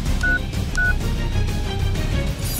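A telephone being dialed to call the police, with two clear keypad tones in quick succession over a busy, noisy background.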